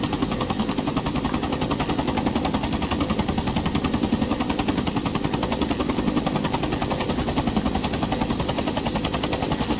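A Bell 212 helicopter sits on a helipad in a flight simulator game, its rotor a steady, loud, rhythmic thumping over a continuous turbine whine.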